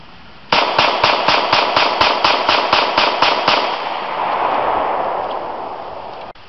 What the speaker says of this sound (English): I'm shooting with a 230 grain round, and I want you to actually listen to the sound and the difference between the two.